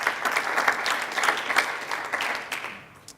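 An audience at a start-up award ceremony applauds a prize winner with dense, continuous clapping that tapers off near the end.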